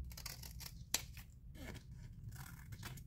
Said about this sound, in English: And we're going to cut off these two.